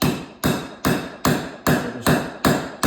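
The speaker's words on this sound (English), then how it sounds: "So just take the brass hammer and knock it in to get a good set on it." Seven evenly spaced, sharp metallic knocks as a brass hammer drives an arbor into a lathe spindle, each strike loud and close with a short ringing decay.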